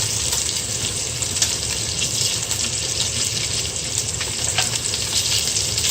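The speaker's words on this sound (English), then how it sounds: "I'm just focusing what I'm cooking. I'm browning it." Meat browning in a pan for Filipino sinigang, a steady dense sizzle and crackle that runs unbroken and fairly loud throughout, with faint stirring and scraping underneath and no talking.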